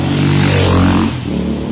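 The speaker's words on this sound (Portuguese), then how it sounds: "Eita, lá vem a moto." On a street in Viseu, Portugal, a motorcycle passes close by: a loud, broad engine roar swells briefly and then recedes.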